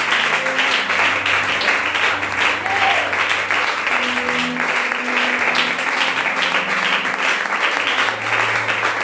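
A church congregation at a fasting-and-prayer service acclaims Jesus with loud, sustained applause, dense clapping that keeps going throughout, with low sustained tones beneath it.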